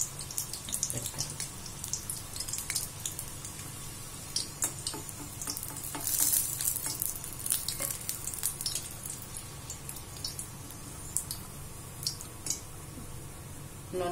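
Wheat-flour samosas stuffed with cauliflower and onion fry in hot oil, a continuous bubbling sizzle broken by frequent crackles and splashes as they are turned.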